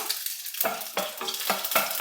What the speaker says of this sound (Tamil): கடுகு வெடிக்கும் போதே ரெண்டு காஞ்ச மிளகாய் நாலாக கட் பண்ணியிருக்கேன் இதையும் சேர்த்துக்கலாம்